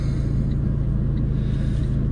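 A Fiat Abarth 695 Tributo Ferrari with a 1.4 litre turbo engine drives along, its engine giving a steady, loud low drone and rumble heard from inside the car, with no talking.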